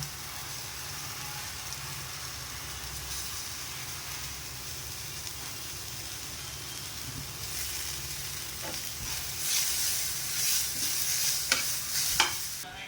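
Onion browned in a pan with tomato added for bhurji, a steady close sizzle that grows louder and brighter toward the end, with scattered stirring scrapes and no voices.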